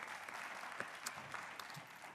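A church congregation claps in steady applause, a dense even patter of many hands with a few sharper claps standing out, lasting the whole moment without a break.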